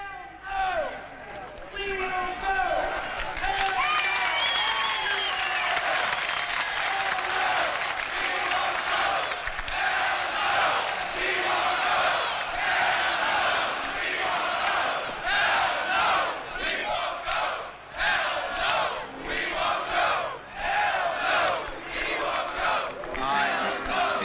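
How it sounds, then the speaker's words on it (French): A large protest crowd at the 1968 march on the Pentagon chants a rhythmic anti-war slogan in unison, loud and continuous, with cheering and crowd noise swelling underneath throughout. "Et la foule scande avec lui. Hell no, we won't go."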